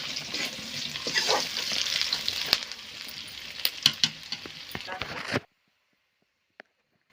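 A spice tempering with ajwain frying in a pan for kadhi, a close steady sizzle with spoon clicks and scrapes and someone talking over it, then it cuts to near silence with a couple of faint clicks.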